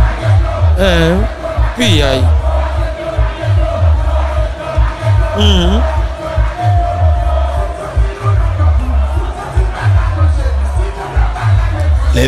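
A crowd of protesters shouts and chants together in a dense, continuous roar, with individual voices rising in whoops above the sustained babble throughout.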